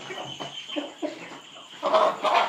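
A native desi rooster gives short clucking calls, fairly close and moderately loud, that build into a louder burst toward the end.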